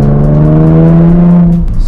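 A loud car engine at a supercar meet in Bangalore, a naturally aspirated Japanese engine idling with a deep steady hum and rich harmonics, close by, then cutting off near the end.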